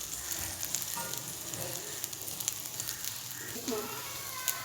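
A bread sandwich roasts in a hot pan with a steady, soft sizzle and light crackle running throughout, fairly quiet and close, while a voice talks faintly underneath.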